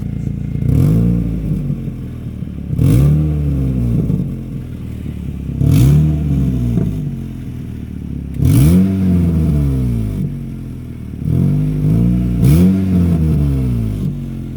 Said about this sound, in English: Here's an outside sound of what the car sounds like.